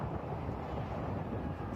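Strong wind blows across an outdoor cricket ground, a steady low rushing roar buffeting the microphone throughout with no break.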